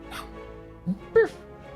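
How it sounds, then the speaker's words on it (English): A pet dog gives a couple of short, muffled yips or whines at moderate distance, two brief bursts against a quiet indoor background. "That's my dog, if you're wondering."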